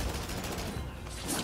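A Gatling gun fires in the samurai-era action game Rise of the Ronin, a continuous roaring stream of rapid shots, dense and steady.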